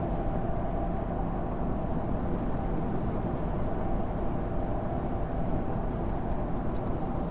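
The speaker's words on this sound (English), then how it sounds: "there is like basically absolute zero road noise from these tires" Steady low cabin rumble inside a truck cruising at about 72–75 mph on 37-inch Falken Wildpeak AT3W tires, a smooth, even drone with very little tire roar and no talking.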